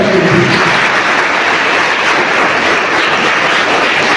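Audience applause at a school's 70th anniversary celebration, a dense, loud, continuous clapping from a large crowd filling the whole moment without a break.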